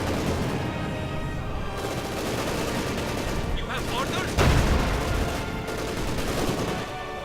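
A Sturmovik attack plane strafing in Company of Heroes 2, a dense rattle of rapid gunfire and impacts with a heavier burst midway, loud and continuous game battle noise.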